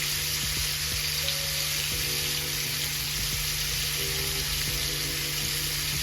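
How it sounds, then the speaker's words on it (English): A steak sizzles and fries steadily in a hot pan, close and continuous, with a few soft clinks and scrapes over the sizzle and no talk. "now that I have my steak turned over, I am going to get ready to place my butter and my onions in the pan"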